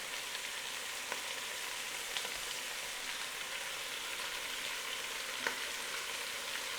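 Braciole rolls sizzle as they brown in a pan, a steady, even frying hiss with occasional faint pops and no talking.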